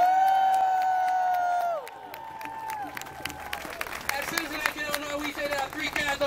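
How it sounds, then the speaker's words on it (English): Outdoors at a teach-out protest rally in Springfield, Illinois, a crowd breaks into clapping and scattered cheers after sustained musical tones cut off, the applause building and staying fairly loud with voices mixed in. "give a great big round of applause to your outstanding leader"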